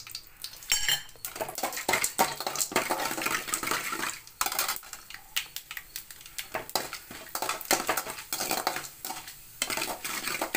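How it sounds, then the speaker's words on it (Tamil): Spices and chana dal crackle faintly in hot oil for a finger millet vermicelli dish while a metal spoon repeatedly clanks and scrapes against the pan, with brief pauses between bursts of stirring. "எண்ணெய் சூடாகி வந்ததும் இந்த தாளிக்கிறதுக்கு எடுத்து வச்சுருக்கிறதெல்லாம் போட்டுக்கோங்க"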